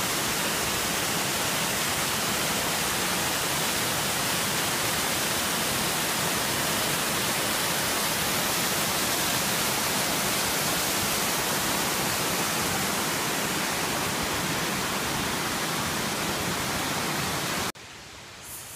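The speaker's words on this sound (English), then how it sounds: "I'm at the lower observation deck of the same waterfall" Broad, unbroken roar of Amicalola Falls heard from the lower observation deck, a dense steady rush of falling water that fills everything and stays constant until it drops off abruptly at the very end.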